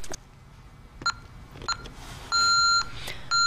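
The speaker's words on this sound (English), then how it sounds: "You will hear 1 second beeping that will start beeping faster at 10 seconds." Alarm system control panel just after arming, with a few short keypad beeps followed by a longer, louder tone and another beep starting, close and clear with no speech.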